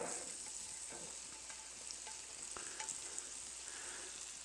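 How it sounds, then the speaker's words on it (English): Chopped onion and garlic frying in butter in a pot, a soft continuous sizzle with faint stirring clicks throughout, heard alone at a low level. "we're going to add 3/4 of a medium onion that I've chopped up and 2 cloves of garlic that I chopped up pretty fine to the butter"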